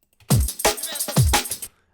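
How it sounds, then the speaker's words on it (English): A short, punchy drum break plays alone: deep kick hits alternating with crisp snares and hi-hats in a fast, syncopated jungle pattern. "it's a classic jungly break on its own."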